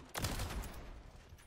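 Recoiling rifle fire in Call of Duty, heard in hardcore mode: a sudden loud burst of rapid gunfire that rolls into a sustained, echoing rumble and slowly fades, close and heavy with no talk over it.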